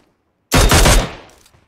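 A loud, close burst of rapid gunfire in a video game, about half a second of dense automatic shots cutting in from silence and trailing off with a short decay, no voices.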